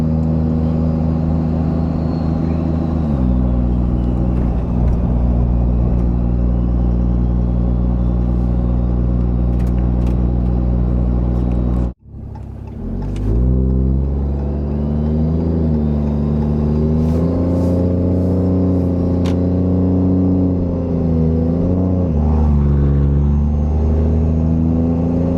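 A Ram 2500 pickup after a 3.42-to-4.30 gear swap accelerates past half throttle, its engine droning loud and close with rising pitch, breaking off briefly at a shift midway before pulling and climbing again.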